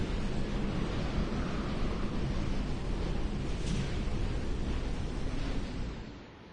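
Blizzard wind howls across a snowy video game scene, a steady broadband roar with no voices that holds evenly before fading slightly at the end.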